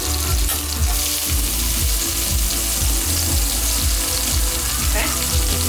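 Onion, ginger, garlic and chili fry loudly in a pan for Singapore noodles, a dense close sizzle with repeated stirring and shaking thumps, and no one speaks.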